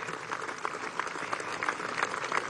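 Crowd applause for the military bands at a Venezuelan armed forces ceremony at Campo de Carabobo, steady and moderately distant, with scattered individual claps rising above a dense wash.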